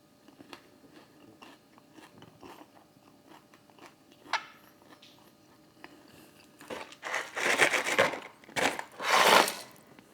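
Chick-fil-A fries are eaten up close: scattered soft chewing and crunching bites, growing louder and denser toward the end, with no talk.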